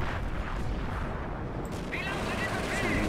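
A heavy mortar round explosion in the World War II strategy game Company of Heroes, a loud sustained rumbling blast with crackling debris and distant battle noise filling the whole few seconds.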